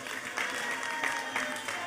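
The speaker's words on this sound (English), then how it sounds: "Shall we give them a big hand of applause?" Crowd applause at a National Democratic Congress chairmanship swearing-in; a fairly faint, continuous patter of clapping with slight swells, a bit distant.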